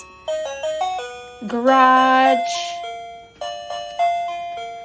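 A KERUI wireless doorbell chime plays a series of clear electronic melodic tones, rising and falling notes with a brief pause, then another chime tune starts; a short spoken word cuts in briefly.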